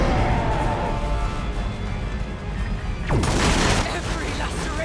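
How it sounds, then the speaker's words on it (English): A grenade blows up in the Warhammer 40,000 video game, a loud sudden blast with a sweeping crash over dense battle noise and rumble, about three seconds in. "Oh, cheeky grenade onto the Zephyrim."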